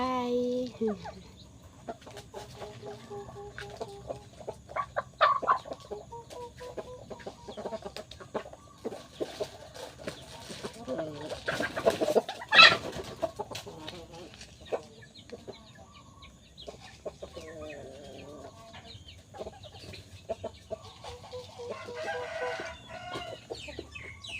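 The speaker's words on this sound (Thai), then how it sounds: "เลี้ยงไก่บ้านก่อนที่จะลงทุ่งนานะคะ" Domestic chickens being fed in a rural yard cluck and chatter throughout, with a rooster crowing loudly partway through and a faint voice now and then behind the flock.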